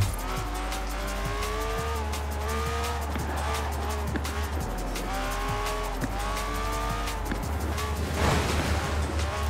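A Pagani Zonda R in a video game, its engine revving hard and climbing through gears with repeated rising whines, shift drops and tire squeals, loud and close throughout.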